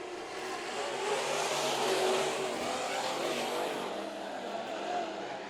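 Sport modified race cars roar around the oval at Bakersfield Speedway, a continuous, moderately distant engine drone that swells and fades as the pack passes, with no talk.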